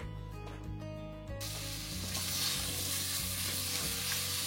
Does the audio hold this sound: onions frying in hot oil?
yes